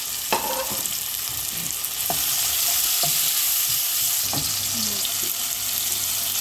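Chopped onion frying in a pan as a fish curry is cooked, giving a steady bright sizzle throughout, broken by a few sharp clicks and scrapes of stirring, close and loud, with no talking.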